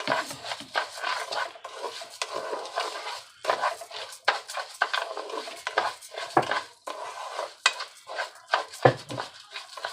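Rice browning in oil in a pan is stirred, a utensil scraping and rasping against the pan in quick irregular strokes, close and fairly loud with no talk.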